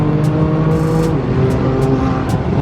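A BMW M2 at speed on a lap of the Nürburgring, its engine note droning loud and steady throughout, with a few brief rising whooshes over the continuous roar.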